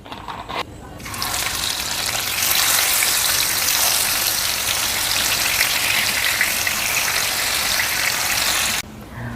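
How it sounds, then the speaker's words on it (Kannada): Anjal fish fries in oil on a hot pan with a loud, steady, close sizzle that builds quickly and holds, then cuts off abruptly near the end. "ಈಗ ಎಣ್ಣೆ ಹಾಕಿ ಫಿಶನ್ನು ಹಾಕುವ ಫ್ರೈ ಮಾಡಲಿಕ್ಕೆ"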